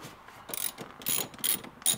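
Ratchet working on the seat track bolts of an Audi B9 S4, quick close-up bursts of clicking pawl strokes in a rapid uneven rhythm.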